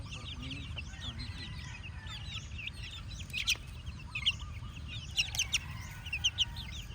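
Game fowl rooster on a breeding farm clucks repeatedly in soft, close bursts over steady low farm background noise, growing busier toward the end.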